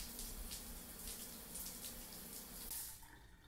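Shower water running from a tap in the life-simulation game Live The Life: a steady, hissing stream of spray that continues evenly and then tapers off near the end, heard alone without talk.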